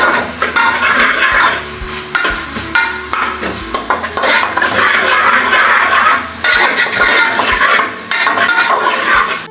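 Onions, garlic and garam masala sizzle and fry in a pan for Bangalore chicken while a utensil stirs and scrapes steadily against the metal, loud and close, with no talking.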